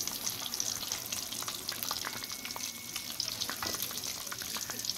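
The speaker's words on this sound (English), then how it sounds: "And you just let them fry. If you never have fried mushrooms, they're so good." Mushrooms fry steadily in hot oil, a dense, continuous crackling sizzle with scattered pops, close and even in level throughout, no voices.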